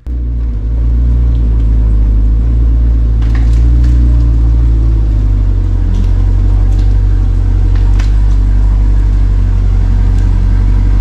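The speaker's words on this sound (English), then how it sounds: "So I'm gonna pull the car in" A car engine rumbles steadily at low pitch, loud and close, as the vehicle is driven slowly into a garage, with no talk over it.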